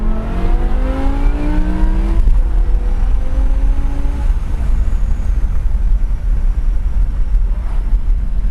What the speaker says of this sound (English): when you're absolutely at redline with the pedal completely pressed to the floor, the SMG gearbox shifts really, really quick